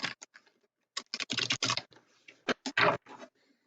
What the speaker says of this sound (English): I'm just going to shuffle them right now for a minute.